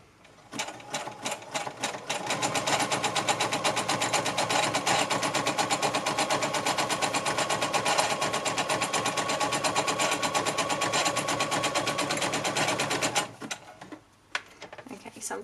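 A sewing machine runs steadily for about eleven seconds, stitching the final edge of a fabric journal cover with a fast, even mechanical rattle, starting and stopping with brief clicks.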